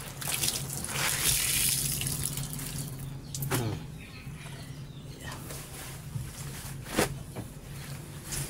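Water runs from a tap in a continuous splashing stream, close and fairly loud, with a few louder splashes and drips.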